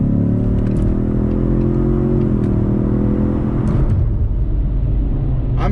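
Inside a moving Ford Mustang EcoBoost, the 4-cylinder engine drones loud and steady, its pitch climbing slightly under acceleration before easing off into a rougher rumble with road noise, and no one talks.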